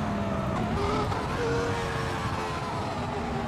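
A Formula 1 car being drifted in a racing video game, with a MOZA Racing FSR wheel: a steady engine drone with wavering tire squeal and skid noise sweeping up and down throughout.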